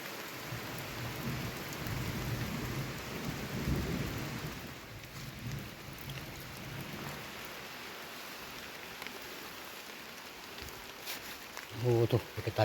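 Heavy rain falls in a steady, fairly faint hiss, with a low rumble of thunder early on and a few sharper drips and knocks toward the end.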